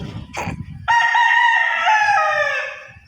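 A bantam rooster crows once, loud and close, a long harmonic cock-a-doodle-doo after a brief low rumble and a short burst of noise.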